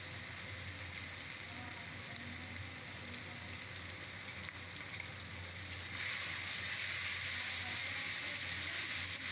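Chopped garlic fries with banana flower in a hot pan, giving a steady, close sizzle that swells louder during the final few seconds.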